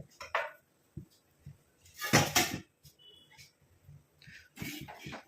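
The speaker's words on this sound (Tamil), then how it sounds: "இப்போ நம்ம அடுப்பில் வச்சாச்சு இரும்பு கடாயை." An iron kadai set onto a stove, a few separate metallic clanks and knocks with a louder clattering burst in the middle, then quieter scraping and clinks, with silence between.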